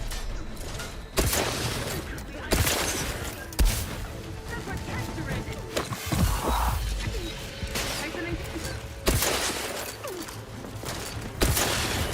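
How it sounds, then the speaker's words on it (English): Shotgun in the video game Outer Worlds 2, heavy blasts and mechanical clacks repeating every second or two amid game noise, with a voice talking over parts of it. "Oh no, I'm reloading the shotgun."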